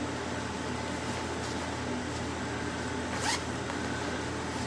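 A brief zip on the side pocket of teal cargo-style pants, heard once as a quick rasp against a steady background hum.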